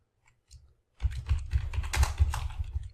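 Typing on a computer keyboard: after a brief quiet start with a few isolated taps, a rapid, continuous run of close key clicks with an uneven rhythm, fairly quiet and without speech.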